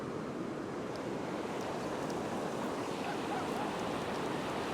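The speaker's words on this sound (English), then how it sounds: "Today I'm just trying to get beyond the breaking waves" Ocean waves break on a beach in a steady, continuous wash of surf with wind noise on the microphone, moderately loud and unbroken.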